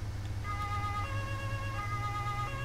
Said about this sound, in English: I'm gonna use my sirens and get there a bit faster.